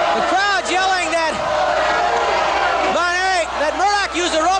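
A wrestling crowd at a St. Louis match yells and cheers loudly and continuously, with rising whoops and shouted voices swelling in bursts near the start and again toward the end.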